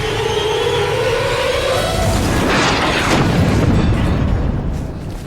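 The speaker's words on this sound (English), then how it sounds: "it sounded like an RPG going off, a rocket-propelled grenade" A rocket-propelled grenade explodes on top of a bunker during the Vietnam War, a loud broad boom with a long rumbling roar that swells midway and slowly fades.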